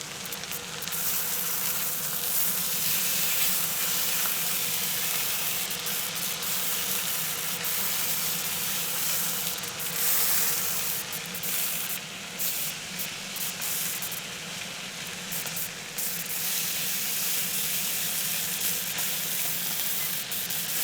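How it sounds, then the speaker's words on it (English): Four boneless, skinless chicken breast fillets sear in a hot pan, giving a loud, steady, close sizzle and hiss that continues unbroken with small crackling flickers throughout. "We're getting a great sear here"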